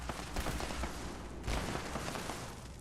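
Gas tanks explode in Fallout 76, two fairly quiet, distant booming bursts about a second apart, each trailing into crackling rumble.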